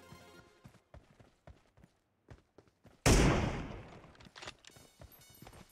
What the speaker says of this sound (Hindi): देख भाई गन शॉट की साउंड एक दबदबा देगा